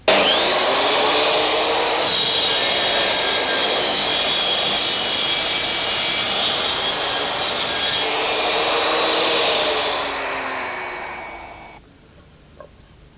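A Triton Work Centre power saw cutting wood roars loudly and steadily for about ten seconds, with the tone shifting slightly as the blade passes through the pieces, then winds down to near silence.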